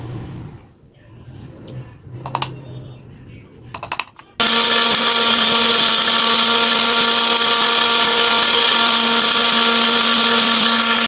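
A few short clicks and whirs, then a small electric blender starts up and grinds onions continuously at high speed, loud and steady for the rest.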